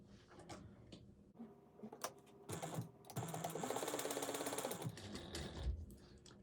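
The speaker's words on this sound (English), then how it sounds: "we're going to stitch around this at a 1/4 inch seam allowance" A domestic sewing machine stitching a quarter-inch seam, its motor whirring in a steady run after a few short starts, close and moderately loud with faint clicks between bursts.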